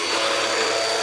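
A household vacuum cleaner runs loud and close, a steady broadband whoosh with a constant motor whine and no breaks.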